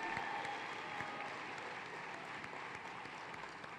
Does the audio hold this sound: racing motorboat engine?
no